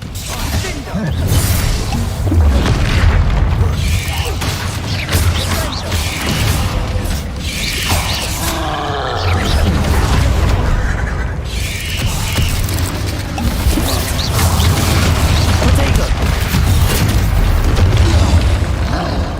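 Repeated Bombarda spell blasts from the Hogwarts Legacy video game, dense booming and crackling bursts over a constant low rumble and game clatter, loud and continuous throughout.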